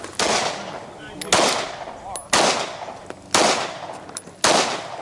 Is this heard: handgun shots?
yes